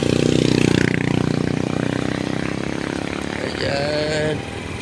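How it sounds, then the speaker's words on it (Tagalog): A motorcycle passes close by, its engine loud at first and then fading as it moves off, while a person talks over the engine noise. "may motor na dumadaan"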